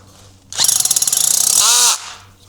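A Bosch EXPERT EXSR18V-90FC cordless drill fitted with a large bit bites into material in one loud, rapidly pulsing burst of about one and a half seconds, winding down as it stops.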